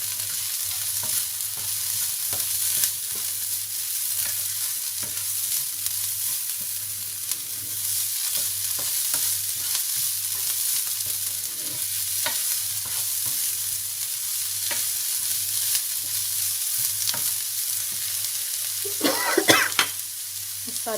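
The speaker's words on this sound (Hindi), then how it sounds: "जो पपरिका शिमला मिर्च रखी है वो वाली, सुरख मिर्च, इनको अच्छी तरह भूनेंगे।" Paprika, capsicum and red chilli frying in a pan while being stirred, a continuous soft sizzle with scattered scraping taps of the spoon and a brief louder clatter near the end.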